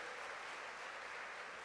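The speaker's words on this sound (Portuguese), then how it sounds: "Aplauda dando glória a Deus." Church congregation applauding to give glory to God, a steady wash of many hands clapping at once, even and sustained with no speech over it.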